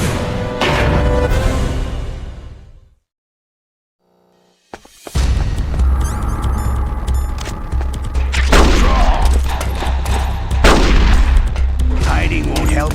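Gunfire in Metal Gear Solid: The Twin Snakes, heavy booming shots and blasts with a brief silent gap before the firing resumes, dense and loud under game sound.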